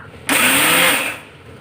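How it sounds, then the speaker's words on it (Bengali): Electric blender grinding white and black mustard seeds with green chillies into a fine paste, starting abruptly with a loud steady whirring roar that holds for about a second before easing down. "আমি সর্ষেটা বেটে নেব।"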